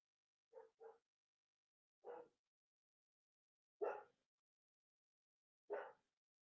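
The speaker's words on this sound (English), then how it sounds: "She's doing what dogs do. They bark." A dog barks outside at a distance, a quick double bark followed by three single barks spaced a couple of seconds apart, with near silence between them.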